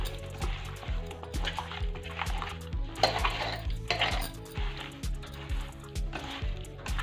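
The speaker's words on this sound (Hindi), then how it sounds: "इसे हम पहले मिक्स कर लेंगे" Rohu fish pieces being mixed with turmeric in a bowl for a Bihari masala fish curry, with repeated close clinks and scrapes of utensil against the bowl in an uneven rhythm.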